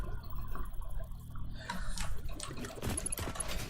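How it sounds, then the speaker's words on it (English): Water sounds in the factory-building game Satisfactory, a steady wash of flowing water with scattered drips and splashes, continuous at moderate level with no talk. "Oh gosh, the water makes sound."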